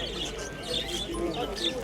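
Pigeons coo at a bird market fair in Dnipro, soft murmuring calls repeating over a steady crowd hubbub with voices nearby.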